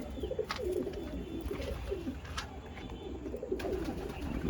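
Domestic pigeons coo softly and repeatedly at close range, low throaty calls rising and falling in a loose rhythm over quiet background noise.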